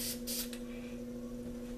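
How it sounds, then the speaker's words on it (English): Black spray paint hissing from an aerosol can over a stencil in short bursts, near and fairly soft, with a steady hum running underneath. "We'll spray some black."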